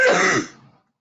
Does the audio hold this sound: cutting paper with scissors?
no